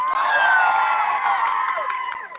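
A crowd at a Palestine solidarity protest cheers and shouts loudly and close by, with a sustained mass of overlapping voices and some whoops that tapers slightly toward the end.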